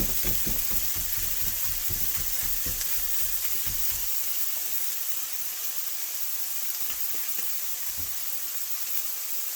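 Ground meat frying in a pan with onion and garlic for chili mac, giving a steady close sizzle with scraping stir strokes early on and no talking.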